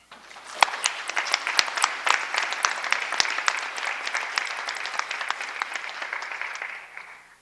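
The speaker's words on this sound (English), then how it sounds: "I think that deserves a round of applause." Audience at a Muscogee Creek Nation meeting applauding, many hands clapping with sharp individual claps near the start, then a dense sustained patter that tapers off at the end.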